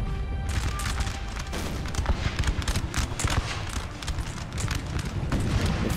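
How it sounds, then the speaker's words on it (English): Artillery fire booms across a Napoleonic battlefield in Napoleon Total War, with dense overlapping blasts and crackling volleys rolling continuously through a loud, busy battle din. "Reich's artillery is targeting the cav here"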